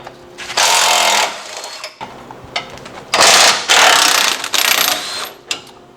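An impact wrench removing large winch mount bolts from the front of a 5th-generation RAM 3500 truck, loud close rattling hammering bursts of about a second each, several in a row with short gaps.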